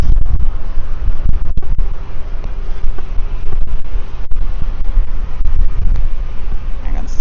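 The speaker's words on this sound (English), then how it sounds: "Yeah, it's very windy out." Strong wind blowing across the open deck of the Explora II luxury cruise ship, a steady loud roar and buffeting against the microphone that lasts throughout.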